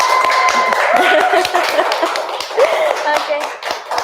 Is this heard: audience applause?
yes